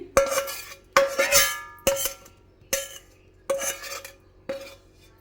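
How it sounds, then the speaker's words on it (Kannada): Fried dry coconut is tipped into a steel mixer jar for putani chutney powder, heard as about six sharp, ringing metallic clinks in an uneven rhythm, close and fairly loud, with no talking. "ಒಂದು ಮಿಕ್ಸಿ ಜಾರೊಳಗೆ ನಾನು ಏನು ಕೊಬ್ಬರಿ ಅದನ್ನೆಲ್ಲ ಹಾಕಿ ಫ್ರೈ ಮಾಡಿದ್ನಲ್ವ ಅದನ್ನು ಫಸ್ಟಿಗೆ ಹಾಕ್ತಾ ಇದ್ದೀನಿ"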